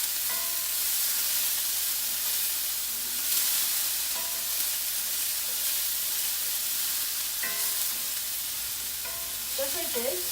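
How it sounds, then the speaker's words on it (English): Onions frying in a curry pan, a loud continuous sizzle with spoon scraping and stirring strokes across the pan, heard alone without talk; distinct pops of mustard seeds are not clearly evident. "I'm gonna continue to mix around my onions."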